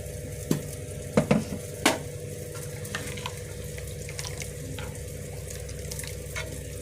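Rasam poured from a rinsed mixer jar into a pan, a steady wet pouring and sizzling wash with a few clinks near the start, close and unbroken, with no talking.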